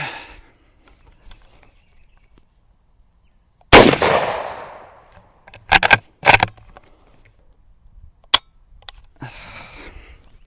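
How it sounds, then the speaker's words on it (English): Surplus 7.65 ammunition fired from a carbine: a loud sharp report, then a few scattered sharp cracks and clanks, with quiet handling noise in between. "Let's see if this will shoot."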